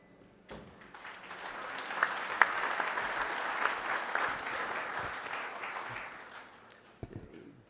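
A conference audience applauds a chairman being introduced: the applause swells quickly, holds as a steady wash of many hands for about six seconds, then fades, ending with a single thump.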